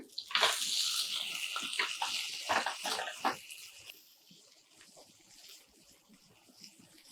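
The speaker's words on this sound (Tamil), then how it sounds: "லேசாக தண்ணி தெளிச்சிக்கிறேன்" Water splashes and sizzles in a hot pan, with a loud hissing burst at first that fades to a quieter crackle.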